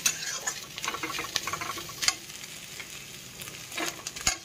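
Chopped tomatoes fry in a pan for chutney, giving a steady close sizzle with occasional stirring scrapes and clinks and no voices over it.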